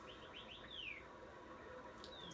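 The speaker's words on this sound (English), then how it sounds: "Those birds are loud." Birds chirping among tall trees in a forest, several short rising calls followed by a longer descending whistle and a late high call, moderately close over a steady outdoor background.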